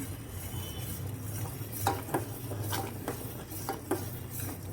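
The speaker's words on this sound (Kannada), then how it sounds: "ಕಸ್ಟರ್ಡ್ ಪೌಡ್ರ್ ಹಾಕ್ಕೊಂಡಿದ್ದೀನಿ ಈಗ ಈ ಕೈ ಆಡಿಸ್ತಾನೆ ಇರಬೇಕು" A spoon stirs custard powder into boiled milk in a pan over a low flame, giving soft, close scraping and light clinks against the metal that repeat in an uneven rhythm, faint and without talk.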